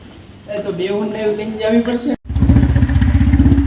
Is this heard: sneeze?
no